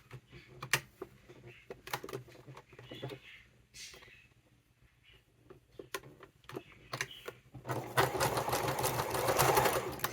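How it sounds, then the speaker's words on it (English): A sewing machine zigzag-stitches the fabric layers of a wallet together at the end, fraying fabric held close. The stitching comes in short rattling bursts with pauses between them, then settles into a longer, steadier, louder run near the end. "I'm going to zigzag them together at the end."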